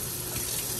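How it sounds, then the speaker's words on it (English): Cold water runs from a tap into a sink in a steady, close, hissing gush with no pauses and no voices over it. "It feels good when I run the cold water"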